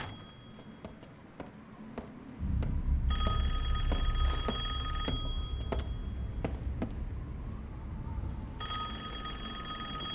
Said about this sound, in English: I'll answer the phone.